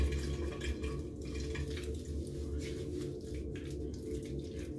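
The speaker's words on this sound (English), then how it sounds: "now I'm gonna go in with this Ole Henriksen cleanser, you know, and wash my face" Tap water runs steadily into a sink while a face is washed with an Ole Henriksen cleanser, a continuous close splashing wash with faint dripping and no talk.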